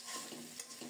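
Potatoes sizzle in a wok as a spatula stirs them in quick scraping strokes, a brief, close and fairly quiet burst of frying with no talking.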